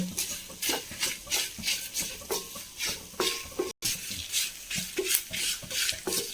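Spices roast in a pan for Kerala-style roasted-coconut sambar while a spoon stirs them in steady, rhythmic scraping strokes, roughly two per second, close and fairly soft, with no talking.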